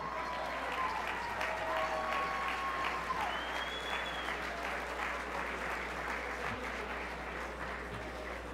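At a university distinguished achievement awards ceremony, an audience claps steadily and cheers for an honoree from a pharmacy college, with sustained applause and a few whistles, fading slightly toward the end.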